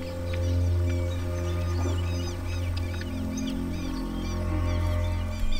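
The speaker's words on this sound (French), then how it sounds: "Tous les oiseaux amateurs de poissons viennent se joindre au groupe." Birds call in a busy chorus of honking and squawking cries at a pond crowded with fish-eating birds, caimans and turtles, repeated overlapping calls over a constant low rumble of water and activity.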